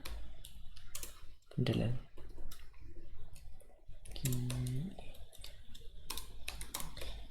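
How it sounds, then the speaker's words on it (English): Clicks of typing on an unfamiliar computer keyboard while coding Java AWT in IntelliJ, brisk uneven keystrokes up close with someone talking over them. "I'm not used to this keyboard, that's why I'm messing the keys up"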